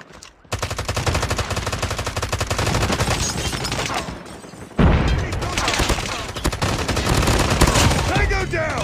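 Rapid automatic gunfire from a 10 vs 10 Call of Duty deathmatch on the Raid map, loud and nearly continuous bursts with a short lull around the middle before the firing resumes.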